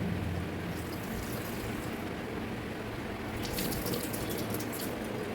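Rice is washed in a cup of water before cooking, a soft continuous splashing and swirling with faint drips, close and quiet with no talking.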